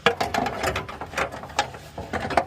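A ratchet tightens the fuel filler neck on a 2021-or-later Jeep Grand Cherokee, giving quick, close, rhythmic clicking in short bursts.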